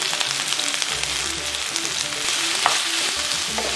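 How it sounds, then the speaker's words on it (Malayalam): Onions frying in plenty of hot oil for camel meat kabsa give a steady, fairly loud crackling sizzle with light spatula scrapes and no talk. "ഇനി ഇതിലേക്ക് നമ്മൾ സവാളയാണ് ഇട്ട് കൊടുക്കുന്നത്. നന്നായിട്ട് എണ്ണ കിടന്ന് നന്നായിട്ടൊന്ന് കറുത്ത് വരണം."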